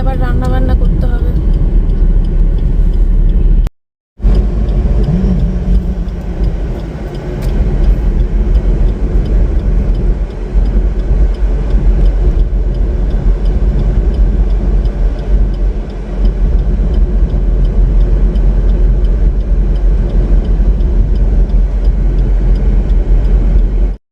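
A car drives along a road at speed, producing a loud, continuous engine and road rumble with a momentary dropout early on, while people talk inside the vehicle.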